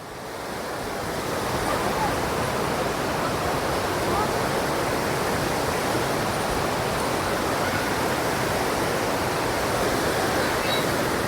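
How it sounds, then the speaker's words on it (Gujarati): A mountain stream rushes steadily nearby, a dense, unbroken roar of flowing water that stays loud and even throughout with no voices. "જુઓ પાણીના એ મસ્ત મજાના ઝરણા જાય છે."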